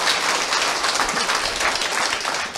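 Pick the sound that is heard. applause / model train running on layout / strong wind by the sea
applause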